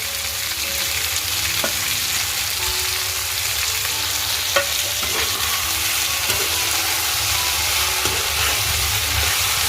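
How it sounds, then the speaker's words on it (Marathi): Continuous crackling sizzle of masala-coated prawns frying in hot oil, with occasional light clinks and stirring, steady and close. "आता सर्व या कोळंब्या आपण मसाला मीठ सर्व लावून घेतले त्या घालून घेतोय"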